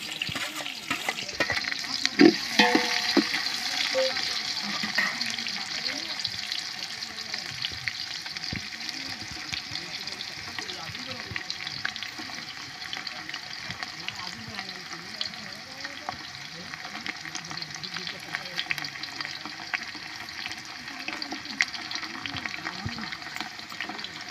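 Chopped onion sizzles steadily in a hot pan during a party cook-up, a continuous bright frying hiss with occasional stirring clatter, fairly close and without talk.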